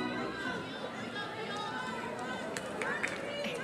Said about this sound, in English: Here's some screams and cheers from the dugout.